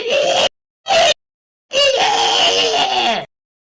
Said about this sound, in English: The liquidator stalks towards second, releases a deranged battle cry.